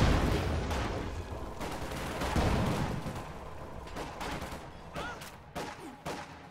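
Gunfire from an infantry support gun rumbles through a World War II strategy game battle, with dense, overlapping booms at first that thin into scattered, fainter shots, no voices heard.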